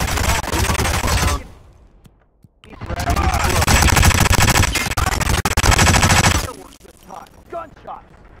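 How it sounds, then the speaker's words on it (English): Bursts of rapid automatic gunfire in the video game Hitman (2016), loud and close, with a brief pause between volleys, then quieter scattered shots and game sounds trailing off. "Gunshots."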